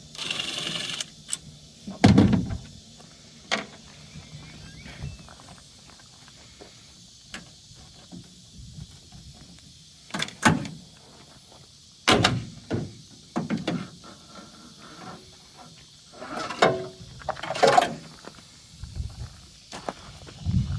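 Screws being backed out with a star bit from a tail light on a 2021 GMC Sierra AT4, heard as scattered short clicks, scrapes and handling knocks at close range with quiet gaps between them and no talking.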